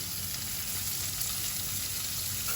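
Chopped onion sizzles in a pan with dry spices, a soft, even, continuous hiss heard up close without any voices.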